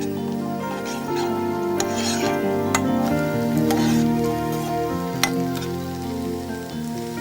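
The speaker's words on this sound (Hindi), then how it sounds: "प्याज हम सिर्फ ट्रांसपेरेंट होने तक ही भूनेंगे।" Onions stirred and frying until translucent in a pot, a soft sizzle beneath steady background music with a few light scraping taps of a spoon.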